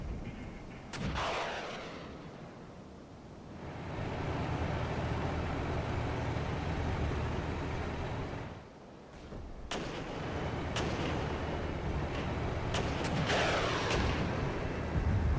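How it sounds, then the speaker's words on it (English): Mortars fire in the Regiments war video game. Deep booming blasts and rumbling explosions sit under a continuous battlefield roar, with sharper cracks near the start and again later, loud and dense, with no voices. "And the mortars can probably just unload and start firing"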